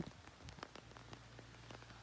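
Heavy rain patters on surfaces during a cycling trip from Italy to Slovenia, dense individual drops hitting nearby over a steady low hum, with no talk.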